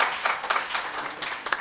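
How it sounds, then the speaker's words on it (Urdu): A small burst of applause greets a guest at a political gathering in Pakistan: scattered, fairly faint hand clapping from a modest crowd, lasting under two seconds. "بھرپور تالیاں کیانی صاحب کے لیے۔"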